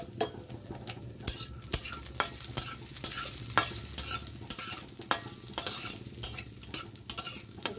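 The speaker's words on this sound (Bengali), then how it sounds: "এবার আমি নারকেলটা ভেজে নেব। এর মধ্যে একটু লবণ দিয়ে দেবো, দিয়ে নারকেলটা আমি ভেজে নেব।" Coconut frying in hot oil with a pinch of salt in a home kitchen, a steady close sizzle broken by repeated scraping and clinking of a spatula stirring in the pan.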